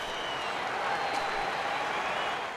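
A stadium crowd in the MLB 14 baseball video game gives a steady, broad wash of cheering and applause at moderate level, with no voices over it.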